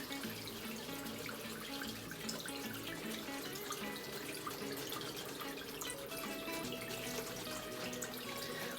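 Tap water running steadily into a sink while makeup brushes are rinsed, faint and continuous with no talking.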